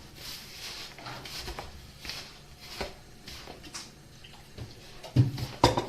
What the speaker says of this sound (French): on va venir verser un peu le beurre et l'huile